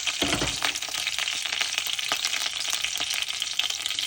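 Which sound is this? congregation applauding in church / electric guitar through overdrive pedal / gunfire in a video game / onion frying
onion frying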